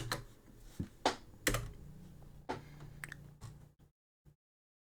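Keys on a computer keyboard are tapped in a short, uneven burst of faint clicks, fading to silence with one last isolated tap.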